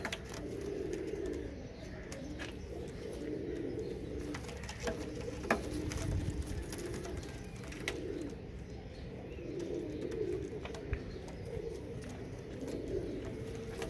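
A large flock of pigeons, their low soft cooing repeating in overlapping bursts with occasional wing flutters and scuffling, moderately near against faint background noise.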